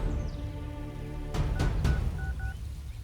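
A telephone gives a short run of keypad dialing beeps, three quick tones followed by a couple of fainter ones, over a soft background hum.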